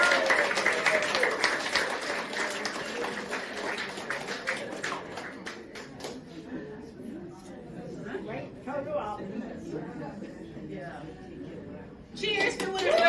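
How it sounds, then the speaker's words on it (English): A crowd applauds Sister Winifred Doherty at her retirement celebration. The clapping is dense at first, then thins into chatter and voices, and a short burst of clapping returns at the end. "Round of applause for Winifred, everybody."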